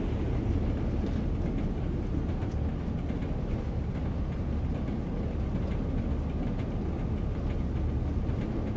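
A heavy rumbling diesel locomotive in Train Sim World, a Class 40 pulling a passenger train, rolls past at steady volume, a low engine drone with rattling wheels over the track, continuous and without speech.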